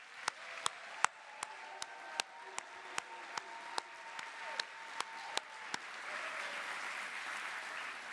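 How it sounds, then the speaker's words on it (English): At a university college graduation ceremony, the audience gives a last round of applause, heard as a run of sharp, regular claps that gives way to a broader, softer wash of clapping, fairly quiet and distant. "One last round of applause, please."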